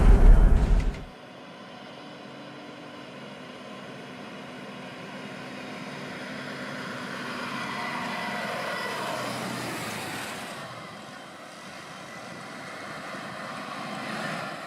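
ZIL truck engine starting with a loud burst, then settling into a steady idling drone that slowly rises and falls in intensity for over ten seconds, heard up close without talk.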